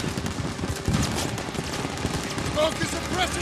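Continuous gunfire from a World War II battle in Call of Duty: WWII, a dense, loud rattle of rifle and machine-gun shots with distant booms, heard under battlefield voices.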